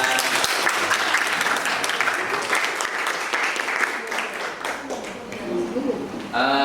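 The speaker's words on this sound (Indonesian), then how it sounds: "Tepuk tangan untuk kelompok 2" A classroom group gives a round of applause for group 2, steady clapping from many hands through most of the stretch, with voices mixed in and a brief lull near the end before clapping picks up again.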